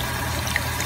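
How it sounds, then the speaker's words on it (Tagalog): Water poured into a pot of Filipino pork and rib stew, a short steady splashing trickle heard close up with no talk. "Nagdagan ko na ng tubig."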